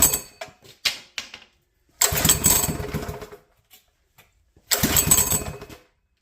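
A Honda GX200 small engine fitted with a wooden laser-cut connecting rod sputters a few times as the choke is eased off, then catches in two loud, rough bursts of running separated by a short silence.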